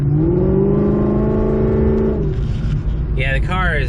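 A 2014 Chevy SS engine pulls under moderate throttle with a sustained, rising drone that eases off midway, followed by a whirring whine, heard from inside the car at a steady, loud level.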